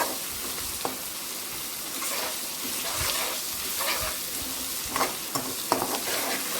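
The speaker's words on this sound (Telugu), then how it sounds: "అంతా అల్లం వెల్లుల్లి పేస్ట్ వేసి ఒకసారి ఫ్రై చేసుకోండి ఆయిల్లో" Ginger garlic paste frying in hot oil gives a steady, dense sizzle throughout, with a few sharper spatters and stirring scrapes near the end, close up and continuous.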